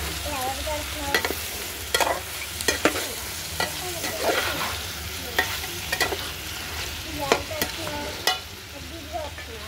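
Chicken curry frying in a pan is stirred repeatedly, with scraping spoon strokes over a steady sizzle, close and fairly loud, with no talking.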